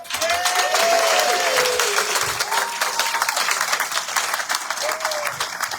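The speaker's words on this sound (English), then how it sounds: "Thanks for the applause." Audience applause at a community coffee-and-conversation gathering at a Pride center, many hands clapping in a dense sustained wash while a voice carries over it near the start.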